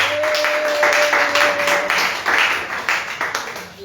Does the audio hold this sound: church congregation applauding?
yes